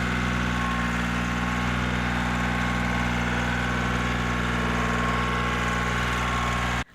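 A compact tractor engine idles steadily, a close, even mechanical drone with a strong low hum that holds unchanged for several seconds before cutting off abruptly at the end.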